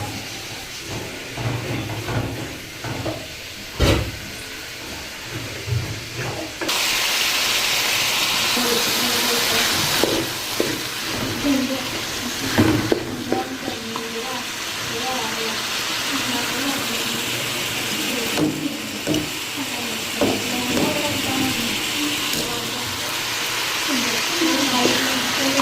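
Frying in a pan, a strong hissing sizzle that swells and drops in bursts, with clatter of utensils and occasional kitchen knocks over about twenty-five seconds.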